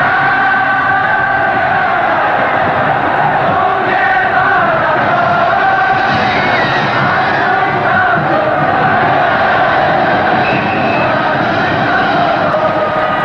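Loud, steady roar of a big crowd at a 1984 Korea University ice hockey game, with cheering and shouts swelling in a dense wall of sound that runs the whole time.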